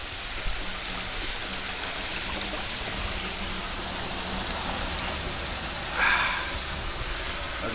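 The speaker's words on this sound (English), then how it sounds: "there's the water coming out" Spring water at Malabar flows steadily out of a pipe or outlet, a constant close rushing splash with a brief louder gush partway through, no talking.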